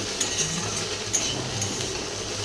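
Pointed gourd, bitter gourd and potato pieces frying in a pan, a steady crackling sizzle with soft scraping stirs and light utensil clinks throughout, no voices.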